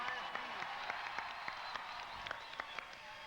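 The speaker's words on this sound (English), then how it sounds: "Give yourself some applause." A baseball celebration crowd applauds in a large venue, a distant steady wash of clapping with sharper individual claps standing out and voices murmuring beneath.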